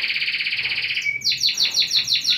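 A canary sings close by, first a rapid rolling trill and then a run of bright repeated chirping notes, loud and clear with no talk.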